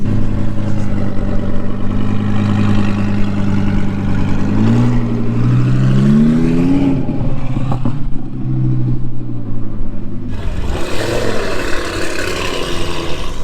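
An Audi R8 V10 engine rumbles loudly at a cars and coffee gathering, with a steady low drone, rising revs in the middle, then a harsher roaring burst near the end, close and continuous without talk.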